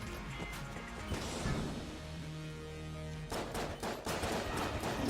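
Rapid gunfire from the video game Enter the Gungeon, a dense, continuous clatter of shots and impacts with a brief steady tone in the middle, fairly faint and busy throughout.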